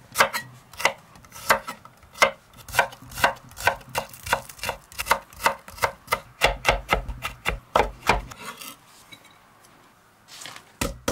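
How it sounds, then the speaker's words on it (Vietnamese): Rapid knife chopping of garlic and shallots on a cutting board, crisp repeated taps in a steady rhythm, close up, then a brief pause and a few more cuts. "Đầu tiên mình cắt hành tỏi và băm nhỏ ra."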